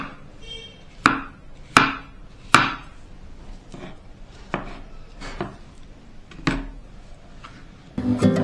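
Dragon fruit being chopped into pieces with a knife, heard as a few sharp, close chops followed by softer, irregular cuts and a final clatter.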